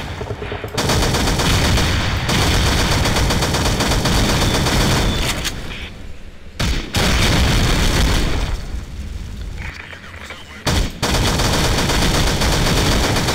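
Rapid automatic gunfire and explosions from the co-op zombie shooter SAS: Zombie Assault 4, loud and nearly continuous bursts with brief gaps, dense throughout.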